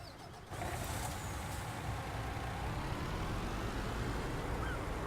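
A truck idles in Farming Simulator 19, its engine a steady low rumble. Near the start comes a short burst of air-brake hiss, and the engine hum carries on evenly to the end with no voices.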